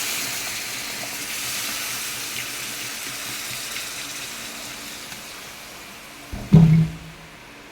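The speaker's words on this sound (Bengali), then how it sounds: "এখন আমি দিয়ে দেবো জল।" Water poured into a pan of fried rui fish gives a steady gushing, tap-like rush, then a sharp, louder splash and hiss near the end.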